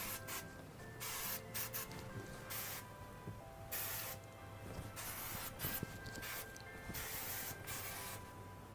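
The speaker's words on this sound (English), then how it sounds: "give it a douse of hairspray all over" Hairspray is misted all over a styled hairdo in repeated quick aerosol bursts, close and fairly soft, with brief pauses and light rustling between sprays.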